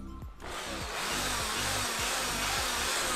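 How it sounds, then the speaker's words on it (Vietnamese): A Bosch drill with a 13 mm chuck, running in normal drilling mode, spins up quickly from near-silence into a loud, steady, high-pitched motor whine that keeps going to the end, with no one speaking. "Chức năng khoan thường."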